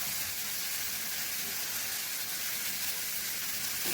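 Taki fish sizzling loudly as it drops into hot frying spice masala for a Bengali bhuna, a steady broadband hiss running evenly throughout without talk.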